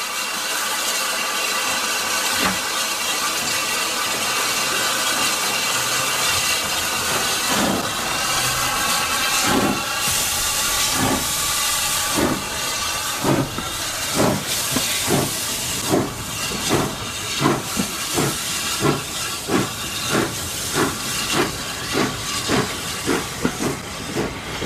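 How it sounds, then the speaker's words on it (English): An Adams T3 steam locomotive pulls out of Corfe Castle station on the Swanage heritage railway, starting with a steady loud hiss of steam before distinct exhaust chuffs build into a quickening rhythm. "arriving at Corfe Castle, where we watched the train depart."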